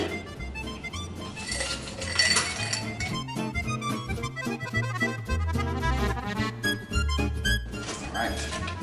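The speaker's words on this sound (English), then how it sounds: "we're going to add ice to our glass and to the cocktail shakers" Ice clinking and rattling as it is added to a glass and into cocktail shakers while mixing whisky drinks, a dense run of sharp close clatters and chimes throughout.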